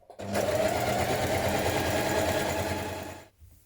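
Sewing machine stay stitching next to the edge of a dungaree bib, one short, close burst of steady motor whir and needle chatter lasting about three seconds, starting and stopping abruptly without talk.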